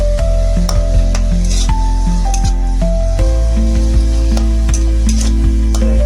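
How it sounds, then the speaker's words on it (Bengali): Garlic sizzles steadily in a pan while a utensil scrapes and taps the metal in repeated strokes, loud and close, with a low steady hum beneath and no one talking. "রসুনটার কালারটা এরকম হবে কালারটা লাল হবে কড়া হবে কিন্তু পুড়বে না"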